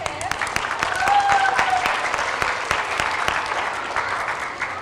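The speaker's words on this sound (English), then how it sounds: "we can clap for him anyways" An audience of young children and staff claps steadily for a student at an early-grade character education assembly. The clapping is lively and sustained, with a few voices mixed in beneath it.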